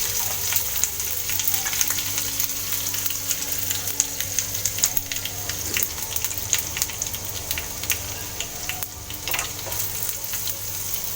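Mustard seeds, cumin, green chili and asafoetida sizzle loudly in hot oil in a pan, a dense steady frying hiss scattered with sharp crackles and pops, close up and continuing throughout.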